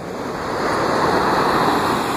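Ocean surf rolling onto a beach near San Jose, a loud close rush of breaking water that builds and holds, with wind buffeting the microphone and no talk.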